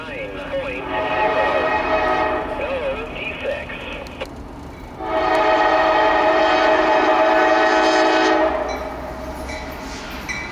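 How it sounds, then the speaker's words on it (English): A CSX train on Norfolk Southern track rumbles past with a loud, sustained horn blast that swells midway, drowning out a voice talking early on. "Got a train coming, check it out."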